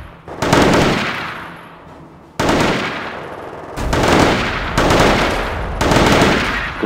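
Loud, close bursts of rapid rifle fire from a three-round-burst rifle in the video game Company of Heroes, five separate volleys with short gaps between them, each ending in a rumbling echo.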